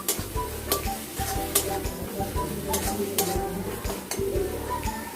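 Spice paste fries in oil for a spicy potato and duck egg curry, a soft continuous sizzle with repeated clinks and scrapes of a spoon stirring the pan, close and fairly quiet.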